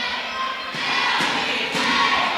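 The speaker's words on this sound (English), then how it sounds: "Crowd is still behind LBK" A wrestling show crowd at a live event makes a sustained, moderately loud roar of cheering and noise. A few dull thuds surge through it.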